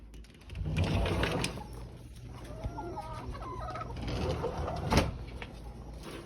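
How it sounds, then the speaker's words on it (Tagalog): Several chickens cluck and murmur nearby in short, irregular calls, with some rustling and scratching in the background. "Tignan niyo yung mga manok namin."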